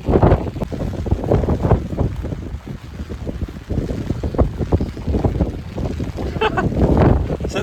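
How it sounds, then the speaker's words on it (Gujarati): Strong wind at a rainy night campsite by the sea, buffeting the microphone in loud continuous gusts with rumbling roar and possible wave noise beneath, close and harsh throughout. "વરસાદ તો ધીમો પડી ગયો પણ પવન બહુ વધારે છે."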